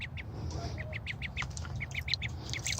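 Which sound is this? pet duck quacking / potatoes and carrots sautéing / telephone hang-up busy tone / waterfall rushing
pet duck quacking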